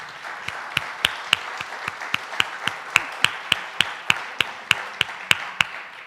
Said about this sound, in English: Let's give them a round of applause for all what they do for us.